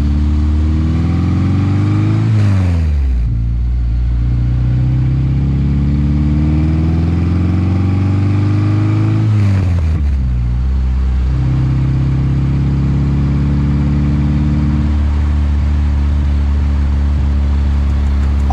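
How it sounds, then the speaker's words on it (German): A VW Beetle pickup convertible powered by a 136 hp Subaru EJ22 water-cooled boxer with a homemade exhaust runs loud and close, revving twice with rising and falling pitch before settling into a steady idle, no talk. "Das ganze Ding wird angetrieben vom Subaru EJ22 Motor, ein Wasserboxer mit wilden 136 PS."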